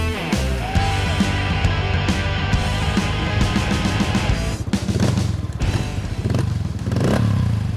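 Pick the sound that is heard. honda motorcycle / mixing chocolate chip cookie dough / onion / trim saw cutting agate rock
honda motorcycle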